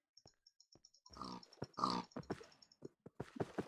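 A pig in the Minecraft video game gives a short run of grunts and oinks amid soft repeated game ticks and footsteps, close and moderately loud with no voices.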